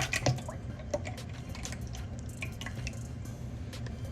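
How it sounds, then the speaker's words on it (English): Heavy cream being poured into a container for homemade Oreo ice cream makes soft, irregular dripping and splashing sounds, low in level and close by, with no voices. "pour heavy cream."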